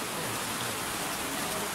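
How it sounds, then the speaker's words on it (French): Steady rain falls during a wedding, making a continuous, even hiss of drops on surfaces at moderate loudness, with no voices heard. "la pluie."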